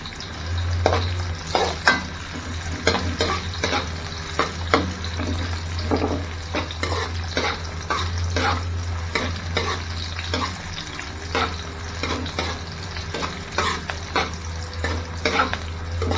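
Onions frying in a pan and stirred with a utensil, with rhythmic scraping and clinks over a steady sizzle and a low hum lasting throughout.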